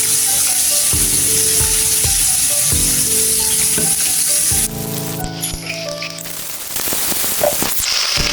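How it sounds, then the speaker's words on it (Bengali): Oil sizzles and crackles hard in a pan while bitter gourd fries, a dense continuous hiss broken by sharp spatters, shifting and settling partway through. "করলা ভাজির জন্য তেল দিয়ে দিতেছি।"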